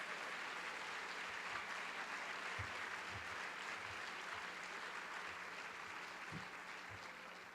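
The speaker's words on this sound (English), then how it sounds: "let's give them another round of applause for 620 years of collective service" An audience claps steadily at a school opening-day event honouring long-serving staff, the applause sustained and fairly distant, with a few sharper claps standing out.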